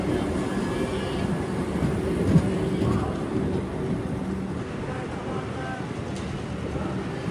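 A short Vande Bharat express on the Vijayawada–MGR Chennai Central route rumbles past as a steady, continuous roar of wheels and rail noise that holds even and fairly loud throughout, with no clear peak.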